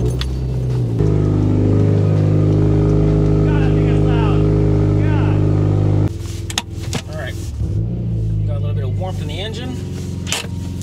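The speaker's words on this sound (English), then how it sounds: "let's go for a drive" A car driving on the road, heard from inside the cabin as a loud, steady engine and road drone, with brief clicks and shifts midway, while a person talks over it.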